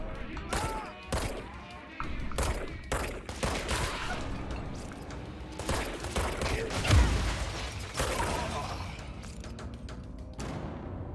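Gunfire in the action game Control, scattered sharp shots and short bursts spread across the stretch, mixed with mechanical clanks, creaks and ratcheting weapon sounds, moderately loud.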